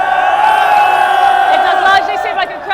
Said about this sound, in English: judging by the cheers of the crowd